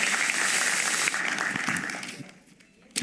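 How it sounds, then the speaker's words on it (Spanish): A church congregation breaks into dense, close applause that stays full for a couple of seconds, then thins out and fades toward quiet. "denle un fuerte aplauso a los que trajeron la Biblia."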